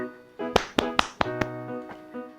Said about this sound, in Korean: 시험을 잘 마친 우리에게 박수를 쳐줍시다